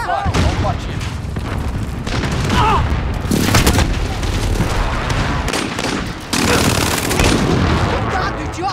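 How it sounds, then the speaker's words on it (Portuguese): Loud heavy gunfire and booming blasts in Call of Duty Modern Warfare, with a grenade explosion among continuous machine-gun bursts, in-game voices shouting over the battle noise. "Jogando granada!"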